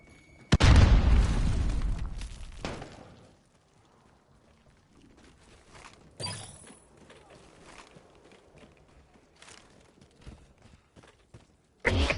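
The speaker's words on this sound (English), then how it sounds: "Throwing grenade." Grenade blast in the shooter game Call of Duty: Modern Warfare, a loud deep boom that rolls off over about two seconds, followed by quieter in-game footsteps, thuds and bursts.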